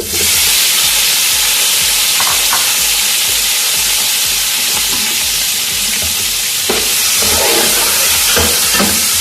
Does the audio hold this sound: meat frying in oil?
yes